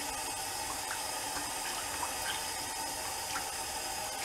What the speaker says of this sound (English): So let's start with some cold water in the sink.